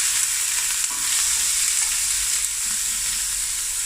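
Cloves and allspice berries fry in a hot pot while being stirred, giving a constant loud sizzle with faint scraping from the spoon and no voices.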